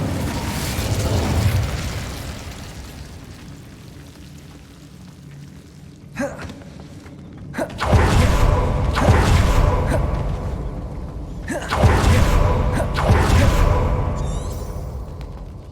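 A fire spell is cast in Hogwarts Legacy, erupting in two loud, roaring bursts of flame, each with a sharp onset and a long rumbling tail, separated by a few seconds of quieter game ambience.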